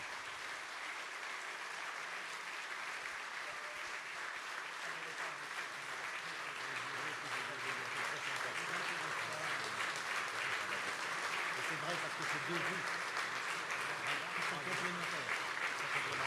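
Sustained audience applause fills a French debate hall, a dense steady patter of many hands clapping that builds slightly louder toward the end, with no speech over it.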